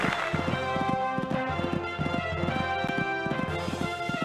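Galloping horse hooves in an equestrian video game's Kentucky three-day event cross-country course, a steady rhythmic clip-clop beating throughout over game music and ambience.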